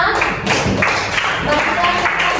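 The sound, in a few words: applause, clapping for everyone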